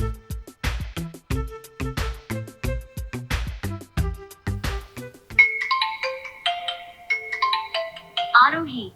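A mobile phone ringtone plays for an outgoing call: a loud, repeating melodic tune with steady rhythmic notes, then shifting to a higher chiming pattern near the end.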